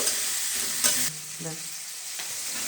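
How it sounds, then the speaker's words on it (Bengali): A spoon stirs green beans frying in a pan, steady sizzle close up with a few soft scraping strokes and no talk. "সিমটাকেও আমরা হালকা করে ভেজে নিব"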